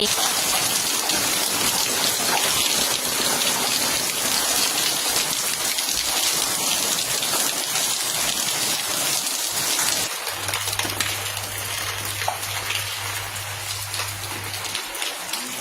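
Steady rain falls throughout, a dense even hiss of drops on surfaces, with a low rumble that could be distant thunder; a low hum enters partway through.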